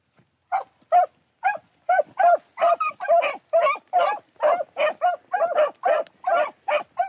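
Beagles on a rabbit hunt, baying in a steady series of loud, rhythmic barks and yelps from close range, with no talk over them.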